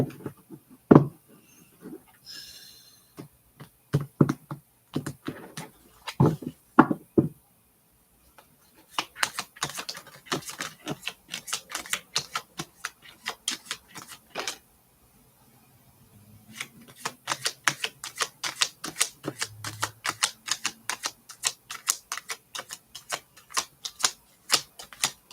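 Pink oracle cards being shuffled by hand, soft quick riffling clicks in irregular bursts with a pause midway, fairly close and quiet, with little talk.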